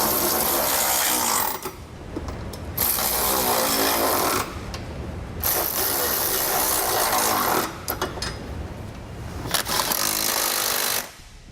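Impact wrench or ratchet driving trailer hitch bolts under a 2007 Subaru Forester during a Curt hitch receiver install, loud buzzing bursts in several runs with short pauses between.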